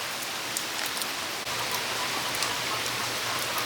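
Steady rain falls outside on a rainy day, a continuous close hiss of drops on surfaces with no pauses and no voices.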